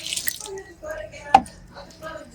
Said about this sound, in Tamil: என்னப்பா பேக் இப்படி கீஞ்சி இப்படி ஒழுகுது?